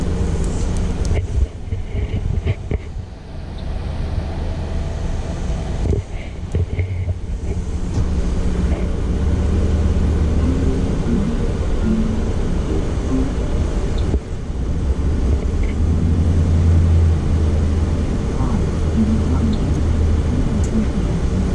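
An AC refrigerant recovery machine running on a vehicle, a steady loud mechanical hum and drone with low rumbling that holds throughout, with a few brief dips.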